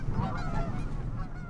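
Canada geese honk repeatedly in winter around Smithville Lake, a dense overlapping chorus of nasal calls from a flock at moderate distance, with no talking.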